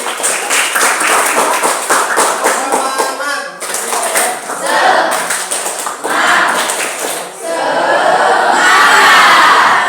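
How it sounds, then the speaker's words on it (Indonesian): A classroom of students claps and cheers for a group, with loud rhythmic clapping at first, then waves of crowd shouting and applause swelling again near the end. "Tepuk tangan untuk kelompok membaca"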